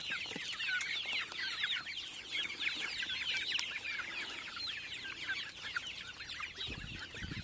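A flock of chickens clucking and chattering continuously, many birds overlapping at moderate distance, with a faint thump near the end.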